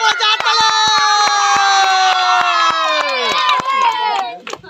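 At a village children's game, a crowd cheers in one long sustained shout, backed by quick, evenly spaced handclaps; the cheer fades near the end.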